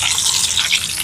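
Stuffed bitter gourd (karela) frying in oil over medium flame, a close, steady hiss of sizzling and spattering moisture throughout a brief moment.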